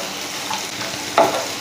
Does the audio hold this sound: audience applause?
no